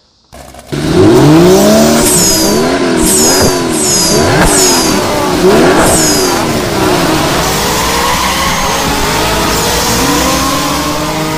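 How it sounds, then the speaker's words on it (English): A loud car engine starts up and revs repeatedly, rising and falling in sharp bursts close by, then settles into a steady roar. "start your engines"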